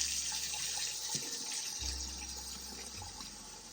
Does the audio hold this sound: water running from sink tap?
yes